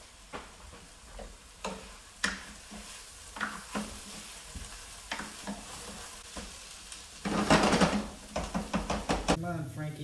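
Food frying in a pan is stirred at intervals, with soft sizzling behind scattered knocks and scrapes of the utensil, then a louder burst of stirring and sizzle near the end, fairly close and fairly quiet.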